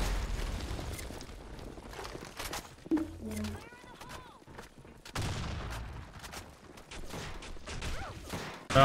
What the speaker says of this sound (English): So many nades.